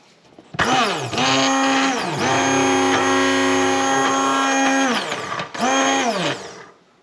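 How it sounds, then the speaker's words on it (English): Hand blender whirring loudly through a batch of thick hummus in three bursts, a brief start, a long steady run and a short final pulse, each with pitch sagging and recovering as the blade works the paste. "Hand blender in."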